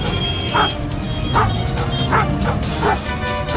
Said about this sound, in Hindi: लकी राजकिशोर जी को देखकर लगातार भौंकता रहा।